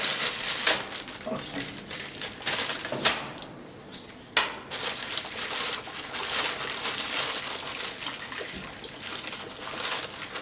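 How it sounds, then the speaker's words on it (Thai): Tea pours and splashes into a plastic bag packed with ice, a steady rushing liquid sound with crinkling plastic throughout, briefly pausing once before continuing, fairly close and loud. "จากนั้นเทใส่ถุงน้ำแข็ง ที่เราเตรียมไว้"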